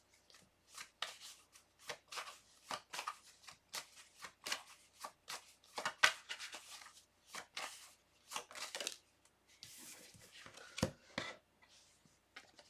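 Tarot cards being shuffled and drawn by hand, a quiet series of soft papery riffles and slaps in an irregular rhythm, close and faint with no talk.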